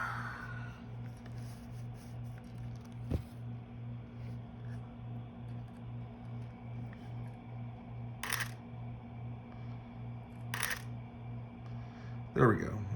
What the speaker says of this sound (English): I'll let you hear some shutter sounds here